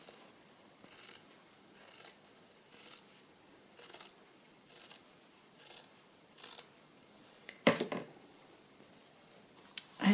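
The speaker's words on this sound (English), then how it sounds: "I'm going to cut it along here" Scissors snip through craft material for a bird journal project, a steady series of about seven short crisp cuts spaced roughly a second apart, close and quiet, followed by a louder rustle of handling near the end.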